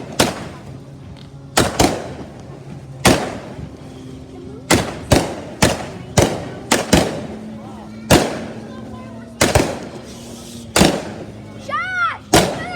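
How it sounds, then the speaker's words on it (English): Backyard fireworks show at night: a rapid series of sharp, loud bangs with echoing tails, some close together, followed by whistling crackles near the end; voices are heard between the blasts. "Can we use all the fireworks you guys have?"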